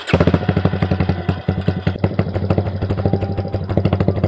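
Close and loud, the engine of a Yamaha Raptor 250 ATV with a smoking valve seal fault runs at a steady, lumpy idle with a regular thumping pulse.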